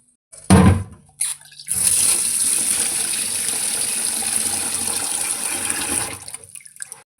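Water gushes steadily into a pot of rice being cooked, a brief splash first, then a continuous pour for about four seconds before tapering off, close and fairly loud with no talking.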